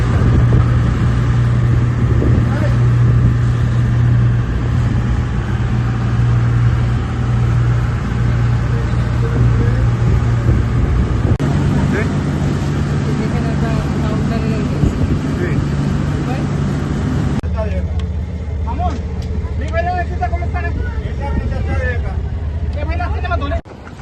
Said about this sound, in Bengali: আমরা এখন এই মিস্টার চিয়াং বোট স্পিড বোটে উঠবো।